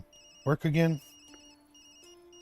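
A phone rings in the game Tokyo Dark with short electronic tones after a brief spoken line, the rings sounding thin and fairly close.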